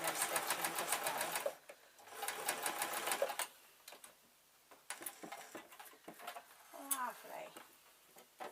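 A sewing machine stitches a fleece slipper sole in two runs of a few seconds each, near and fairly loud. Quieter pauses follow, with light handling and a brief voice.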